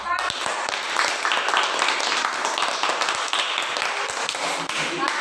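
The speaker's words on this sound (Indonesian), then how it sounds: "kasih tepuk tangan" Classroom applause from students during a school teaching-practice lesson, a dense patter of many hands clapping steadily at moderate volume, with some voices mixed in.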